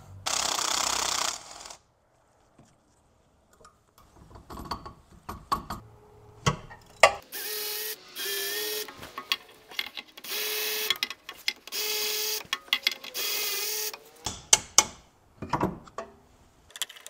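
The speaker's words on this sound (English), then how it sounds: "I'm just going to use this 1/4 inch E-Torx and pull them all out." A 1/4 inch ratchet with an E-Torx socket backs out bolts on a BMW E46 during a differential mount bushing job, a series of close, rapid clicking bursts separated by short pauses and small metallic clinks.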